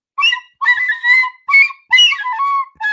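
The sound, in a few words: whistling imitation of the Willy Wonka tune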